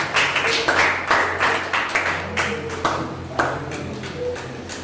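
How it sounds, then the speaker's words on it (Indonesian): Classroom applause for a student group, a handful of people clapping at close range in distinct, uneven bursts. "kita beri tepuk tangan untuk kelompok 3"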